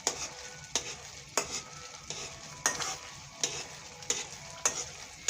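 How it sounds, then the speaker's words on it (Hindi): A spoon stirs halwa in a pan, with rhythmic scraping strokes about every half second over a soft steady sizzle of frying, close and fairly quiet. "हमने जो अपना चमचा है ना वो ऐसे करके घुमाएंगे हम"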